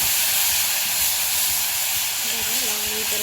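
Ginger, garlic and green chilli paste frying in two ladles of hot oil for a prawn curry, a loud steady close sizzle and hiss throughout, with a faint tone near the end.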